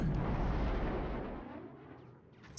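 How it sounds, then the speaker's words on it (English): Artillery barrage in the wargame Flashpoint Campaigns: Southern Storm, a heavy rumbling roar of fire that starts loud and slowly fades away, with a faint sharper burst at the end. "that's our artillery firing"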